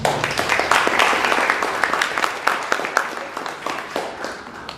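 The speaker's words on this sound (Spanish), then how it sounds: "pido también un fuerte aplauso para nuestro expositor" Applause for the featured speaker at a fiscal reform forum, a dense wash of clapping from an audience that gradually thins and fades out.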